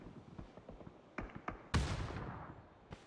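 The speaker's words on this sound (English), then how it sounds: "Nades by April." Grenade explosions in PUBG, with scattered distant pops of gunfire leading up to one loud, sharp blast that rumbles and decays, then a smaller report just before the end.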